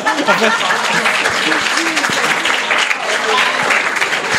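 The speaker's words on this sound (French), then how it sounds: "Alors, on l'applaudit aussi." Live podcast audience claps for a master brewer: loud, dense applause throughout, mixed with cheering and voices talking and laughing over it.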